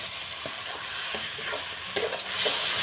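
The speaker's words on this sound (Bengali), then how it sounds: "এখন ভালো করে নেড়ে নেব।" Beto greens with snakehead fish head and rice flour paste are stirred in a hot pan, a steady close sizzle broken by repeated scraping strokes of the spoon.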